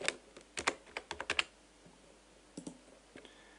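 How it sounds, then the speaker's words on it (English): Computer keyboard typing, with a quick burst of close, crisp key clicks followed after a pause by a few more taps, in a quiet room. "click on Add and type in your preferred profile name"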